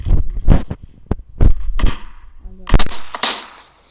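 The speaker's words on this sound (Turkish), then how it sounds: "Vurayım ben onu vurayım ben." Bursts of M4 rifle fire in a first-person shooter video game ring out in sharp, loud shots, some in quick clusters, with game effects and a voice speaking between them.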